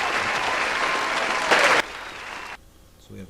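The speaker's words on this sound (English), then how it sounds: "give yourself a round of applause" Loud canned crowd applause in a math lesson, swelling briefly before cutting off abruptly, followed by a short quiet tail.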